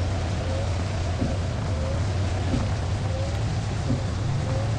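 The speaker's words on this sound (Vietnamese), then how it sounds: "Đây bây giờ mưa quá" Heavy rain in the Minibus Simulator Vietnam driving game, a dense, steady wash of downpour with a low rumbling undertone, continuous and loud throughout, with faint tonal sounds mixed in.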